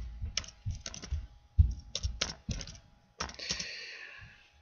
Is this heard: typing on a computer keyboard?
yes